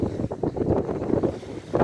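Strong gusting wind buffets the microphone on Pikakari beach by the Gulf of Finland, a loud, continuous rushing roar with no voices.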